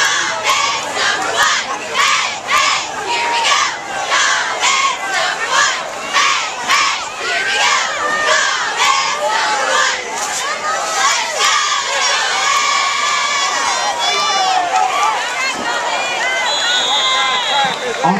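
High school football crowd at a Garner Trojans versus Clayton Comets game cheering and shouting loudly and continuously, with children's yells and excited voices throughout.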